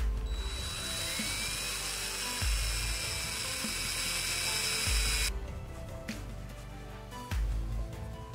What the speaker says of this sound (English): So I'm going to drill a hole, tap it, and put a grease zerk in there.